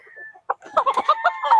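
Rooster clucking at a game farm stocked with gamefowl breeds such as Boston and Kelso crosses, a short run of close, loud clucks and calls in quick succession after a brief soft tone.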